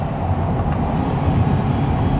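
A 2023 Corvette Stingray engine, rev-matching through a downshift, gives a steady, loud, deep rumble that stays dense and unbroken from start to finish.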